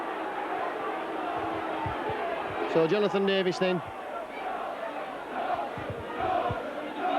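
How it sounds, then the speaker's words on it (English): A rugby league crowd at a 1992 Leeds versus Widnes match roars and jeers in a steady wash of noise, swelling into a brief chant-like shout, while a commentator talks over it. "Can you hear what the crowd think about that?"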